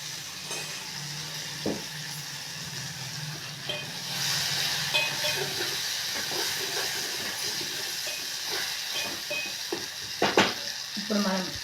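Asafoetida drops into hot oil while a chutney is made, giving a soft, steady sizzle and hiss with a few light clinks of a spoon or pan.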